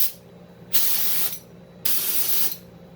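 A conventional spray gun, fan control opened fully, sprays latex paint in two distinct bursts, each a loud, broad hiss lasting about half a second to a second, separated by quieter pauses.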